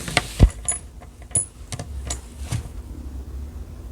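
Metal D-ring hardware for a sewn duffle bag strap clinks and jingles in a few sharp, close taps, separated by quiet handling noise.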